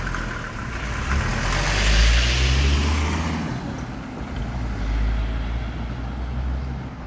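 Cars rev their engines in city traffic while waiting near a pedestrian crossing, a steady rumble of idling and revving motors that swells and eases, heard close by without talk.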